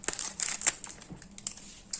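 Scissors snipping and crinkling through the plastic wrapper of a shortcrust pastry package in a home kitchen, with a quick run of close, crisp cuts and rustles that fade to quieter handling.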